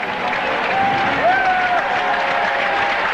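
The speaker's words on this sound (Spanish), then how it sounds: "Gran ovación" Stadium crowd at the Barcelona 1992 Olympics opening ceremony giving a sustained ovation, a dense steady roar of applause and cheering with a faint whistle-like tone rising through it.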